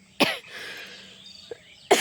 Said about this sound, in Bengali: আর এত কাশি হচ্ছে ঠান্ডা লেগেছে ভীষণ